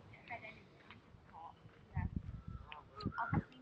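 Faint honking calls from geese and other waterfowl, including swans, ducks and moorhens, come from a distance at a country park in Wakefield, England, mixed with outdoor background noise and soft voices.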